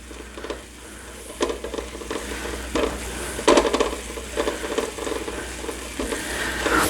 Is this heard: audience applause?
no